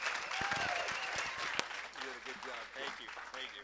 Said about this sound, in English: Ladies and gentlemen, how about a round of applause for Ben Johnson?